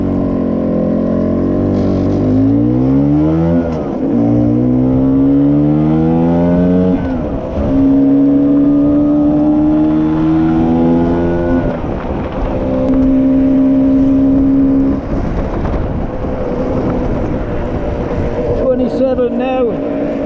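A Lambretta scooter's two-stroke engine runs on a test road near a beach, its steady drone rising and falling in pitch as it revs through gears, loud and continuous throughout.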